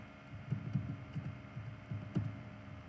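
Keystrokes on a computer keyboard come in a few short, irregular bursts of close, light clicks, with no talking over them.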